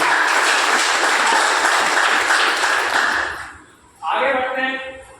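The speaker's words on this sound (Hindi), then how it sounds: "हमारी संस्था के लिए जोरदार ताली बजानी चाहिए" A room full of people at a business-plan meeting claps loudly and steadily for several seconds. The applause then dies away and a voice starts speaking.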